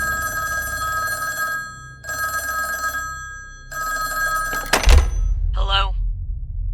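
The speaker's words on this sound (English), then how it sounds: "we get to see a phone call between the Pathfinder and Veronica" A telephone rings in the video game Cronos: The New Dawn: three long electronic bursts with pauses between them, then a heavy thunk as it is picked up, followed by a short voice.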